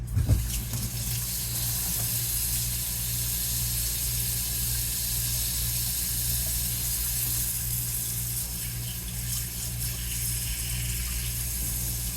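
Lukewarm tap water running into a sink to dampen a rag for covering sourdough, a steady hissing stream that stays constant for about twelve seconds, fairly close, with a low hum underneath and no talk.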